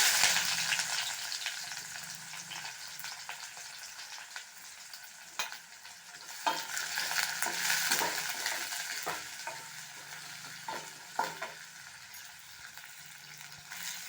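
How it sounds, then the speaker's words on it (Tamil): Onion goes into hot oil with popped mustard seeds for red rice poha, giving a soft continuous sizzle with repeated scraping and clinking stirs of a spoon in the pan, close and fairly quiet. "இப்போ கடுகு பொரிஞ்செடுத்து ஆனியன் சேர்த்துடலாம்."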